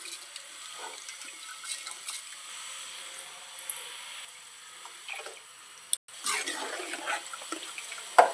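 Water runs and splashes into a cooking pot of basmati rice and mutton, a steady close pour with a brief pause and a louder surge near the end.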